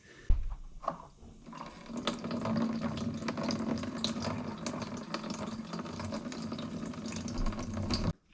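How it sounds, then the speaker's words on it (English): Coolant pours steadily from the opened stopcock of a Toyota or Lexus radiator into a container below, a continuous close trickling and splashing flow lasting several seconds with no talk. "drain all the coolant out of here by turning that stopcock right there, and obviously having a container underneath"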